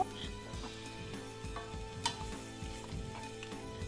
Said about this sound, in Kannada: ಅದನ್ನು ಕಡಿಮೆ ಉರಿಲಿ ಐದು ನಿಮಿಷ ಬೇಯೋಕೆ ಬಿಡಿ